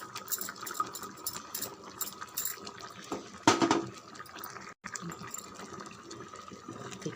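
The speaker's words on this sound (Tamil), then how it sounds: "குழம்பு நல்லா கொதிக்குது" A pot of eggplant curry bubbles and simmers with uneven gurgling and crackling, broken by a brief louder clatter midway.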